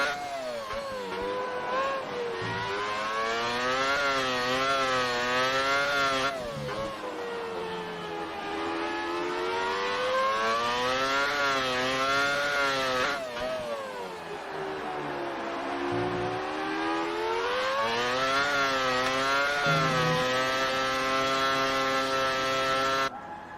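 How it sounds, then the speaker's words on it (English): A 1998 McLaren race car engine in a racing video game screams at high revs, its pitch repeatedly climbing and dropping through gear shifts and corners, loud and sustained. "Nice sound of that car. Really enjoyed the sound of that car."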